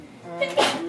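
A single person sneezes once, a short sharp burst with a brief intake before it, heard up close in an indoor setting.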